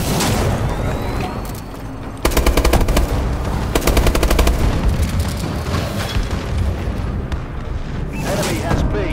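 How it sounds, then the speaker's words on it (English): Heavy combat from a Call of Duty: Advanced Warfare Domination match during an enemy bombing run: loud, continuous rapid gunfire with dense bursts and booming impacts that swell midway and stay thick to the end. "Enemy bombing run incoming"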